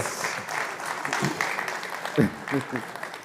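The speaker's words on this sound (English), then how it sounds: "Yes, go ahead and clap" An audience claps at an investment summit while a speaker keeps talking over it, the clapping moderate and scattered beneath the voice.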